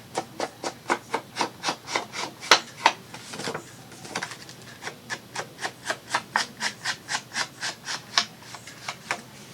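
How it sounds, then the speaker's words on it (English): Ink is rubbed by hand along the freshly trimmed edge of paper in a steady run of short, even scrubbing strokes, close and dry, with a brief pause partway before the strokes resume. "Just have to re-ink it where we trimmed it off."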